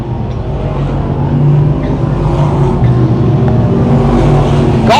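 Vintage 1950s and 1960s stock cars race around an Eastern Ontario speedway oval, a dense, loud, continuous engine roar with overlapping revving motors and a sharp car passing close near the end.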